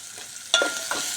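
Khichdi ingredients frying in a pan with sizzling and stirring scrapes, a short burst of louder clatter midway, close and fairly quiet, no talk.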